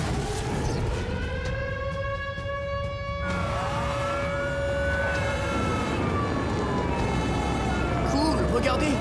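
Several fire engine sirens wail together in long, overlapping rising and falling tones, loud and continuous, with a brief break partway through before the sweeps resume.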